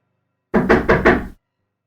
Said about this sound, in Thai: ไม่นานเสียงเคาะประตูก็ดังขึ้น